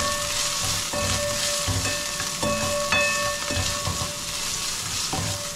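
Onion and garlic sizzle loudly as they sauté in a pot, a steady frying hiss with scrapes and stirring knocks recurring through the clip, close and alone.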